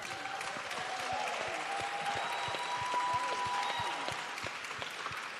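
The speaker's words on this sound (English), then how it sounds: "Give Lily a round of applause" An audience gives sustained applause for Lily at a conference, with dense steady clapping throughout that is moderately distant and shows no break.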